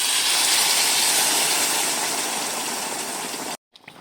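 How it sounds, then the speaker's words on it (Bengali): Boiled water is poured into a simmering yam and fish curry, making a loud, steady rushing hiss and splash that runs for several seconds. It stops abruptly, leaving faint kitchen sounds. "এবারে এখানে ফুটানো জল দিয়ে দেবো।"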